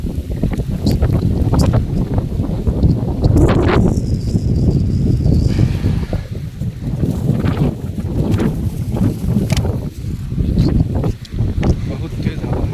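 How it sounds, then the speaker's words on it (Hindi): Strong wind during a stormy day near a parking area and apple orchard in Poland buffets the microphone with loud, continuous low rumbling gusts, while people talk over it. "बहुत ही हवा तेज है आज।"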